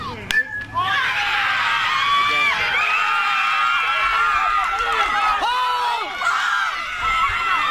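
A baseball crowd at a Green Dogs game roars and cheers loudly and continuously as the home team ties the game, a dense wash of shouting and whooping with occasional whistles.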